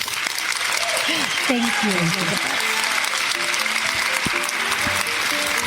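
Audience applause for a guest at a speaking event, a steady wash of clapping running through under a voice thanking the crowd.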